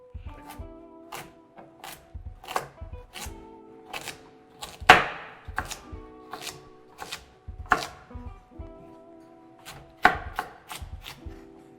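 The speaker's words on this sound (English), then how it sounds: "Because carrots roll, I always like to cut them in half." A knife chops carrots on a cutting board while making chicken stock, crisp close knocks in uneven bursts, some quick runs and some spaced strikes, with no talk.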